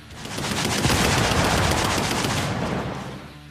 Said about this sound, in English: This will allow you to shoot your guns one after the other